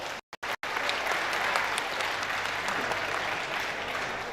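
Festival audience applauding at Vikramshila Mahotsav, a dense, steady wash of many hands clapping that starts after a couple of brief cut-outs and holds loud and even to the end.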